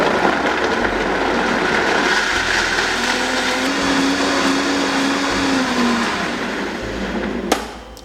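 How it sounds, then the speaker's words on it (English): A blender blending coconut and water runs steadily at high speed, a loud continuous whirring grind that holds for several seconds, then cuts off with a brief clunk near the end. "I'm going to start blending."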